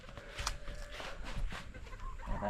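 A breeder gamecock kept for fighting gives short, scattered clucks over steady outdoor background noise, with no talking.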